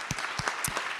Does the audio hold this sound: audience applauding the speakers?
yes